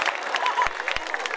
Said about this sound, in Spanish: Se merece un fuerte aplauso toda la gente